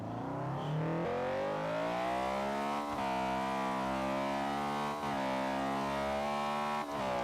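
A close-ratio race car engine in Forza Horizon 3 revs hard and climbs through several gear changes, each shift marked by a brief dip before the whine rises again, loud and continuous with no talking.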